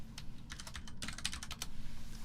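Fingers tap out numbers on a computer keyboard in quick, uneven clusters of keystrokes, close and fairly soft, with no speech.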